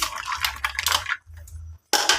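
Metal utensil scraping and clinking inside a pot, in quick repeated bursts with brief pauses, close by.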